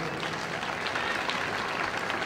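An audience at a para equestrian event gives a round of applause, a dense, steady wash of clapping from many hands that stays even throughout.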